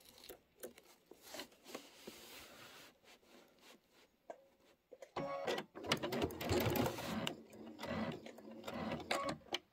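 A sewing machine stitching an embellishment onto an organza skirt; faint handling and rustling give way to a close, steady mechanical whirr of stitching in the second half, with no talk.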